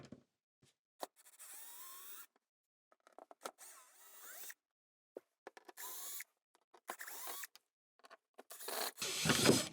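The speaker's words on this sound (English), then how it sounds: "using a standard drill with a Phillips bit, you've got 1, 2, 3, 4, 5 screws that you're going to need to remove" Cordless drill with a Phillips bit backing screws out of a panel on a Basecamp 20X trailer: short, separate whirring bursts with quiet gaps between them, growing louder and longer at the end.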